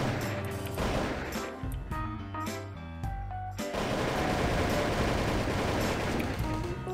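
Bursts of rapid gunfire in a Minecraft shooter server game, sharp repeated shots in quick clusters followed by a denser continuous barrage, loud and close with no talking.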